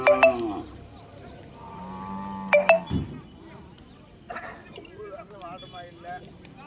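At a large cow market in Tirupattur district, cattle moo loudly and close by, two or three calls in all. Someone talks over them, and faint crowd noise fills the gaps between the calls.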